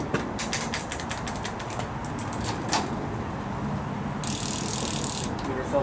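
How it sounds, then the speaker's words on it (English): A bicycle's rear wheel is removed, bringing a run of ratcheting clicks from the freewheel and brake, followed by a brief hissing, rattling stretch near the end, close and moderately loud. "So, first things first, rear wheel comes off."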